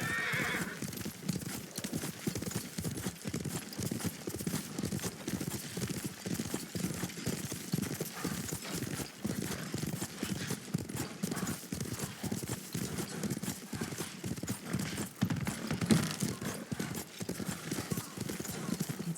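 Horse hooves clip-clop steadily while riding in the Ghost of Tsushima video game, a continuous rhythmic gait with occasional whinnies, mixed with ambient background sounds and some talking.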